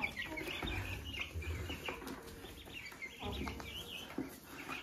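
Hens of three breeds cluck softly together on a farm, with soft bursts of clucking and bird chirps over a faint, low background.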